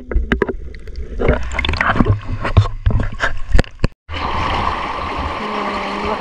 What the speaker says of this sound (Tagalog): lakas ng water